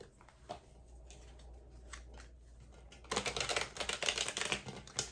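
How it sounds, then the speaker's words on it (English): Decks of tarot cards shuffled by hand, a few soft flicks and taps at first, then a dense, rapid riffling flutter that fills the last couple of seconds, close and crisp. "I'll just do a quick shuffle of the decks and we'll proceed."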